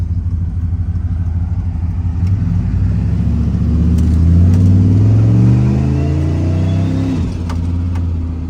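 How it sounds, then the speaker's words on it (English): A turbocharged car engine revs up steadily with a rising turbo whine, loud and close, then the pitch drops sharply as it shifts. "I forgot how much I love turbo noises"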